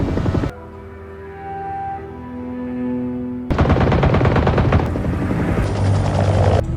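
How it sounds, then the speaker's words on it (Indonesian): A helicopter's rotor drone plays alone, then bursts of rapid, loud automatic gunfire from the helicopter rattle over it to the end. "helikopter CIA mengintai, lalu melepaskan tembakan"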